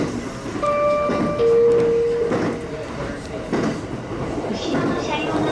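A JR train in Nara Prefecture rumbles and hums with tonal whining brakes as it slows arriving at Kanahashi station, under a steady interior drone.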